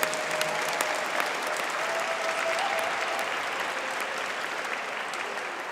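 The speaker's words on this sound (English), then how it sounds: "Let's give a round of applause for the MSBA graduates." Sustained applause from a commencement audience greets the MSBA graduates, a broad, even wash of clapping from many people that continues steadily throughout.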